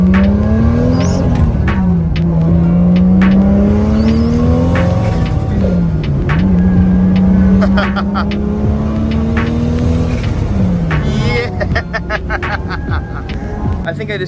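A Toyota Supra sweeps past in a flyby, its engine note climbing and dipping through several revving surges over a steady roar, loud and close for most of the run before easing off.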